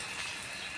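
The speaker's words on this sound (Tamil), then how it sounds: "இப்போ லைட்டாக தான் பெய்யுது" Light rain falls in Thoothukudi, a faint steady hiss of drops with no distinct individual hits, heard alone without voices for under a second.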